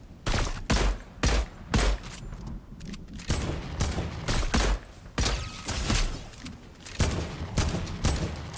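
Bursts of gunfire ring out in the video game Fortnite, loud repeated volleys of rapid shots in a steady rhythm, with brief gaps between the bursts.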